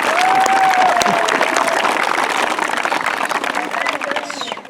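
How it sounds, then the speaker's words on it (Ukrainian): An audience claps loudly and steadily at the opening ceremony of a football season, dense close applause that thins out toward the end, with a voice over it. "А ми ну ще раз йому аплодисменти."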